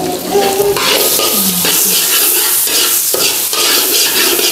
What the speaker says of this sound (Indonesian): Ditumis sampai harum.